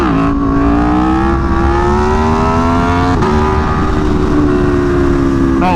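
An Aprilia Tuono V4 motorcycle engine revs loud and close, its rising whine climbing steadily, dipping briefly at a gear shift, then pulling on again.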